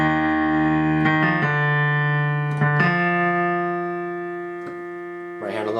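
Solo piano left-hand part of a song: a few sustained low notes and chords struck one after another and left ringing, with soft decay between strikes.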